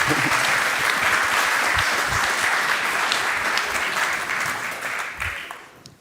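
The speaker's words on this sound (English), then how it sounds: "Give a warm hand of applause." An audience claps warmly at a food talk on biodiversity, dense, steady applause that holds, then thins and fades out near the end.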